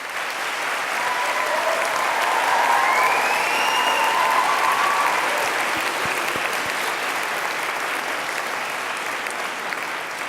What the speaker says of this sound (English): please join me in a round of applause to thank all of those who have helped you along